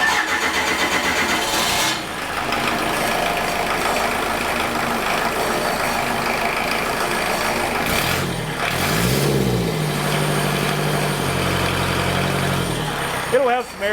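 A diesel engine on a dynamometer cranks and catches, then settles into a steady, loud running drone with a brief rev toward the end, while a person talks over it.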